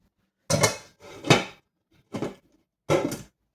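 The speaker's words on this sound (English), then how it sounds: "I got to put the lid on this pot" Four sharp metallic clanks in quick succession, close and loud, as a lid is set down on a pot of boiled potatoes.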